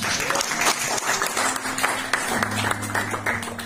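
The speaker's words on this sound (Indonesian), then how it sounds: "Tepuk tangan." Applause from a church gathering after a sermon, steady clapping lasting the whole stretch, with a low sustained tone and voices murmuring underneath.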